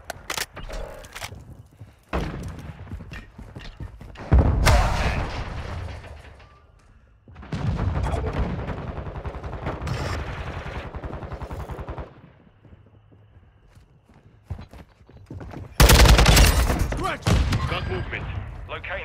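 Gunfire in Call of Duty: Modern Warfare 2 on a Halloween map: long dense bursts of automatic fire and sharp shots in several loud stretches separated by quieter gaps, with occasional voices in between.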